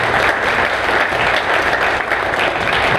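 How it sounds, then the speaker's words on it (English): Audience at a county political debate in Chipley, Florida, giving steady, loud applause for court candidates, a dense, even wash of clapping throughout. "Big round of applause, please, for Washington County Corporate Court candidates"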